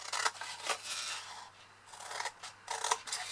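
Scissors snip through paper, cutting away long squares along scored lines for a papercraft piece; several bursts of close, crisp cutting with short pauses between them and no voices.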